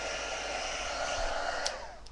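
A hair dryer blows steadily at close range, drying wet Brusho paint, a continuous airy whoosh that holds for the whole stretch without pause.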